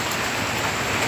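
Water dripping and leaking into a house during Typhoon Paeng, a dense, steady hiss of falling water like heavy rain, close and continuous with no voices.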